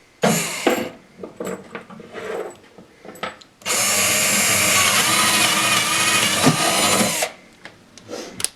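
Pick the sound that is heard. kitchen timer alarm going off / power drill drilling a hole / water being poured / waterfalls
power drill drilling a hole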